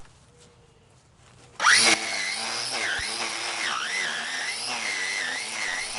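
A Ryobi One+ 18V cordless edger powered by a 5Ah Dewalt battery and sped up, breaking into a loud, steady, high-pitched motor whine after a quiet start. The whine holds throughout with a wavering pitch.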